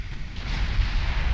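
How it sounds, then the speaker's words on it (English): A heavy shell strikes home in the naval warfare game Ultimate Admiral Dreadnoughts, setting off a deep, rumbling explosion that rolls on without a break. "And explosion."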